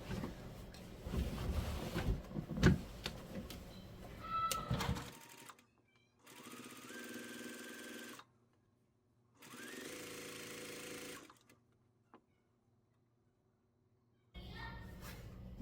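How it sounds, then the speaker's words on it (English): A sewing machine stitches a quilt piece in short bursts of steady whirring separated by pauses, close by, with a voice talking at the start and briefly near the end. "I'm going to sew about halfway through this. Piece."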